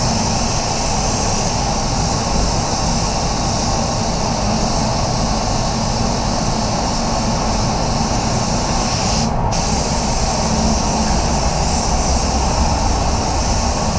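A spray gun lays a coat of red paint on a Hyundai car, a continuous loud hiss of atomized spray running steadily with one brief break near the end.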